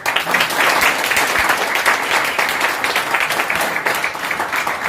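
An audience at a marketing event applauds loudly and steadily as someone is called onto the stage, a dense, sustained wash of many clapping hands.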